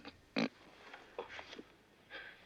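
A man in a restaurant imitates a pig with a few short grunting, snorting sounds, one louder burst followed by quieter grunts, heard close and alone.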